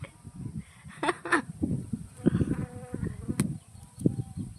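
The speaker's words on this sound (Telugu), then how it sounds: "ఈగులు వస్తున్నాయి ఎక్కువ" Honey bees buzz close around a hive in a neem tree among farm fields, a steady drone mixed with rustling and handling noise.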